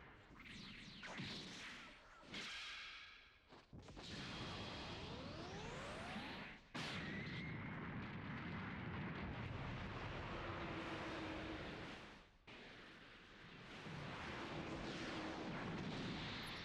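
A Super Saiyan 4 Dragon Fist attack in the video game Sparking Zero, with loud roaring energy blasts, whooshing sweeps and booming impacts that fill the whole stretch, rising and cutting out in big surges.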